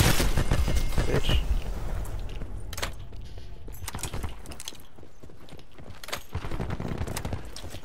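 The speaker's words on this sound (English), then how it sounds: "I only heard like footsteps" Sharp transient clicks and taps in a first-person shooter video game, irregular and moderately close, likely footsteps mixed with gunfire-like game effects and no speech.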